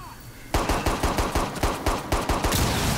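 Rapid pistol gunfire in a video game where a shield protects teammates, a quick run of sharp, loud shots in uneven bursts starting abruptly after a short quiet lead-in.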